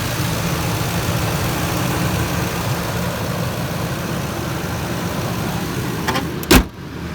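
A 5.4 Triton V8 in a 2004 Ford Expedition Eddie Bauer runs at a steady idle, a constant low rumble heard from nearby, with a brief sharp thump near the end.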